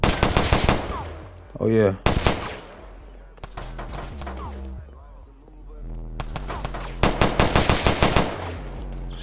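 An AR rifle chambered in 300 Blackout fires fully automatic in a Roblox shooter set in the Bronx. Several loud, close bursts of rapid shots are separated by short pauses, and a voice speaks briefly between them.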